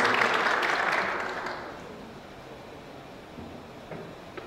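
Audience applause at a construction summit in Bursa greeting a speaker onto the stage, a dense crackling wash of clapping that is loud at first and fades over the second half into quieter room noise.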